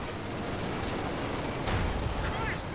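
Dense, continuous gunfire and explosions from a Company of Heroes 2 battle, a steady loud barrage of shots with a heavier burst partway through.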